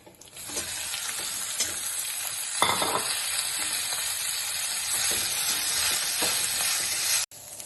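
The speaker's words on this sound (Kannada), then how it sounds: "ಇವಾಗ ದೊಡ್ಡಪತ್ರೆ ಸೊಪ್ಪು ನೋಡಿ ಹಾಕ್ತಾ ಇದ್ದೀನಿ." Doddapatre (Indian borage) leaves stir-frying in a hot pan for tambuli rice, a steady close sizzle and crackle with occasional stirring scrapes throughout, no voices.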